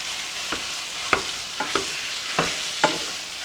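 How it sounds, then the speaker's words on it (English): A pound of ground meat sizzles in a frying pan while being chopped apart, steady close frying hiss punctuated by about six sharp scrapes and taps of a utensil at irregular intervals, no talking. "This is a pound of ground meat. I'm going to just chop that up."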